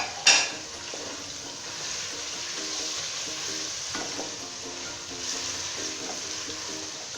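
Minced meat with finely chopped green chillies fries in a pan for a karela keema, giving a steady close sizzle with a sharp burst at the start and scattered soft scrapes of stirring, no voices.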